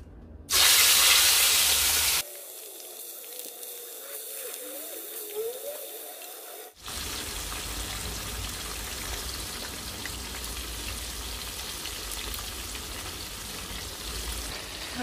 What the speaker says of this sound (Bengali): এর মধ্যে আমি মাছটাকে ভেজে নিচ্ছি